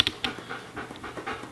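A Labrador pants in quick, short breaths with an uneven rhythm, fairly close and fairly quiet, during an obedience training session in Brooklyn, New York.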